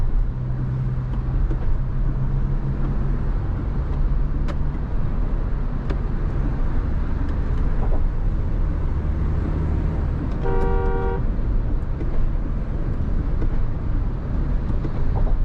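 A Mahindra SUV cruises at around 100–110 with steady, loud road and engine noise inside the cabin, and a short horn toot sounds near the end.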